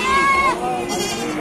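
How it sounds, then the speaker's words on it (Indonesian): A goat bleats loudly at an outdoor livestock market in Bumiayu, a wavering cry over busy crowd chatter and voices nearby. "kambing induk anakan 2 ekor"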